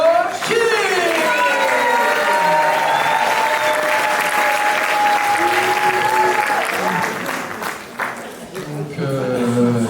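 Audience at an open-stage music event applauds a performer: a sustained crowd of clapping and cheering, with a held tone and voices over it early on, fading slightly near the end.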